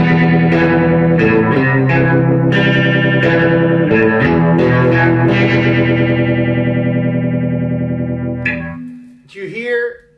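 Electric guitar run through a tremolo effect, with loud sustained chords and pulsing repeated notes that fade out near the end, followed by a brief stray sound.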